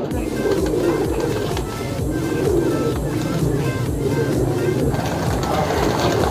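Pigeons cooing at a village pigeon show, with repeated throaty coos pulsing in a steady rhythm against busy outdoor background noise and a faint murmur of voices.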